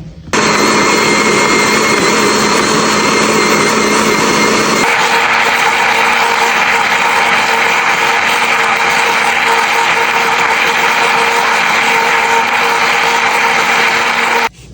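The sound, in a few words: small blender blending pudding ingredients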